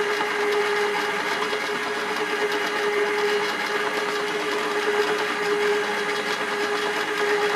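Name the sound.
pasta machine kneading dough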